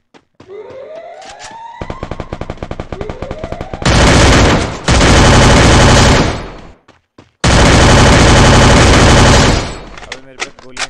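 Loud, close automatic gunfire in Free Fire, rapid bursts of shots with dense sustained volleys in the middle, broken by short pauses.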